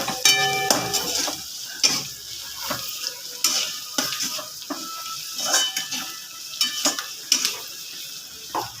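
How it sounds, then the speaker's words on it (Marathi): Turmeric is stirred and roasted in a hot pan for a Marathi potato bhaji, with a soft sizzle under irregular spoon scrapes and metallic taps against the pan, no voices. "आता टाकणार आहोत हळद छान असं हलवून घेऊया"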